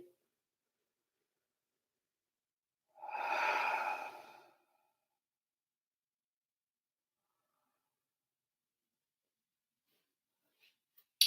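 A single slow, audible exhale lasts about a second and a half, from someone lying flat in a yoga pose with the forehead resting on stacked forearms. Near silence surrounds it.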